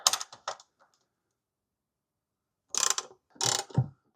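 Socket wrench ratcheting on a bolt of a Yamaha R6 motorcycle during sump removal: a few quick clicking bursts at the start, a pause, then louder rapid ratchet clicks and rattles near the end, heard close up.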